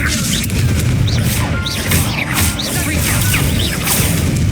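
Fiery Confringo spell blasts from Hogwarts Legacy, a run of sharp whooshing bursts and booming impacts over a constant low rumble of game noise, loud and close throughout.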